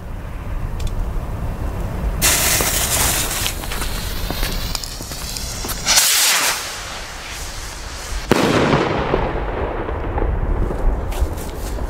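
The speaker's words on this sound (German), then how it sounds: "Dann die nächste Double Ring Rakete." A Double Ring firework rocket fired outdoors gives a rushing whoosh as it launches, then crackling bursts and a sharp bang, with a hissing, sizzling tail as it fades at a distance.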